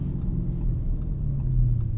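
A 2021 Audi C8 RS6 Avant with a RedStar exhaust burbles in first gear after a downshift. It is heard from inside the car as a deep, steady low rumble that swells slightly toward the end.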